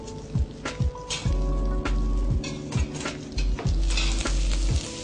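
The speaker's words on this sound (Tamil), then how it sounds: "இதை நல்லா வதக்கிக்கோங்க." Sesame, peanuts, curry leaves, ginger, green chili and cumin sautéing in a pan, with a steady sizzle broken by repeated scraping stirs at a regular pace, close up and without talk.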